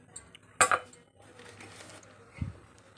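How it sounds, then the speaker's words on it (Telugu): A steel cooking pot is set down on a kitchen stove for okra curry, one sharp metallic clink followed by quieter handling noises and a dull knock near the end. "గిన్నె పెట్టుకోవాలి."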